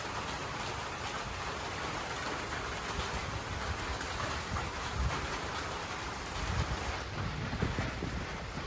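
Rain pouring down outdoors in a rural farm setting, a steady, dense wash of drops with some wind buffeting the microphone, continuous and unbroken.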